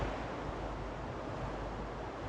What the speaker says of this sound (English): we got a real strong Class 2 Rapid right below us